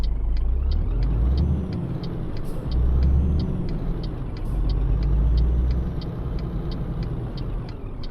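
Simulated heavy truck in Euro Truck Simulator 2 creeping through a maneuver, its engine rumbling low and steady while a regular series of short, sharp air-brake hisses or clicks repeats roughly every third of a second throughout.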